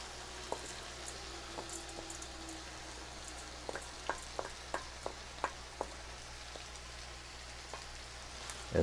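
Beans and corn tumbling into a pan of chicken and rice for Tex-Mex chicken and rice, heard as a faint run of soft patters and small taps over a low steady hum, with a louder bump at the end.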